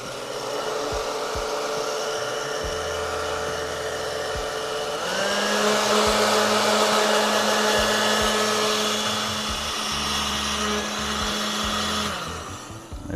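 A heat gun blows on heat shrink tubing over soldered wiring for Koso heated grips on a third-generation KLR650 motorcycle, a steady loud whooshing hum that rises in pitch and strength midway and holds before trailing off.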